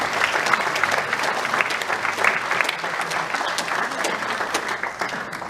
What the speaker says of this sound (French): Vous pouvez applaudir Monsieur Delam également.